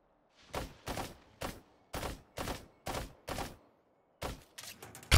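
Eight or so sharp gunshots ring out one at a time in an evenly spaced rhythm during a video game, each with a short decaying tail, then a pause before a few more shots and a final loud burst.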